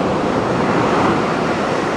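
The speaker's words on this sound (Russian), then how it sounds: "Тихий океан." Pacific Ocean surf at Puerto Vallarta, Mexico, a loud, continuous roar of breaking waves close by with some wind, no talk.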